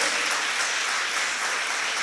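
Church congregation applauding together, a steady dense wash of clapping filling the space without a break.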